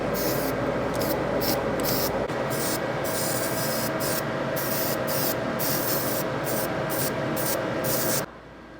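A spray gun applies paint to the frame rails of a 1968 Dodge Charger under restoration. The hiss is steady and close, with faint rhythmic tapping over it, and it ends abruptly near the end.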